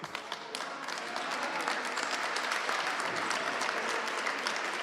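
Spectators in an indoor basketball arena applaud during a women's game, a steady, dense wash of clapping that swells and holds, heard from a distance without talk.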